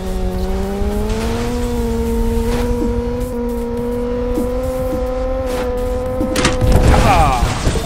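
Motorbike engine drone in the combat racing game Road Redemption, a loud steady whine with several dull thumps as cars hit the rider, ending in a burst of rough noise; a voice talks underneath.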